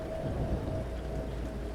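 Endless rain falls at night on a dark road, a steady dense hiss over a low rumbling undertone, continuous and even throughout with no voices.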